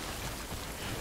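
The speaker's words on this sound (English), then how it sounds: "We should really get out of the rain because our equipment's probably getting severely damaged." Steady rain in the video game Death Stranding, a dense even hiss of drops falling without a break, close and constant for the whole moment with no voices.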